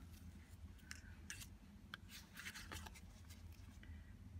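Scissors snip overhanging tape on a handmade ribbon card, giving several short, crisp cuts close by in a quiet room, spread irregularly over a few seconds with no talking.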